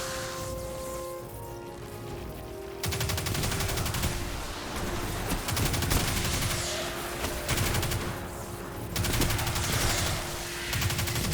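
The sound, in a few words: arc weapon gunfire in the video game Destiny 2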